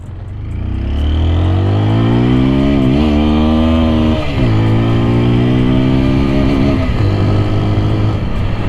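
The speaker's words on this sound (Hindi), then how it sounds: "करते हैं बाइक को रैव" A TVS Apache 160 4V motorcycle engine revs up and down several times in sports mode, loud and close, its pitch rising and falling in repeated bursts over a steady idle.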